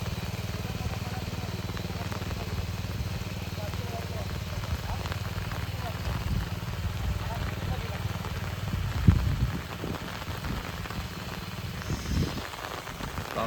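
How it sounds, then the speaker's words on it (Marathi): Steady rain patters on surfaces in a farming village, a constant hiss with scattered drops, while people talk nearby and a low engine idles in the background. "पावसा जा रे"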